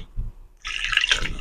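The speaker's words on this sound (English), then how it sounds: "Just going to add some water and mix with our hand." Water poured into a bowl of akara bean batter after a short pause, a close, steady trickling splash lasting about a second with faint handling noise before it.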